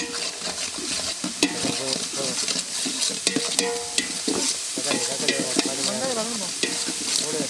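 Onion frying in a pan for goat leg soup, a dense continuous sizzle with frequent spoon scrapes and clinks, close and fairly loud, with faint tonal background sounds underneath.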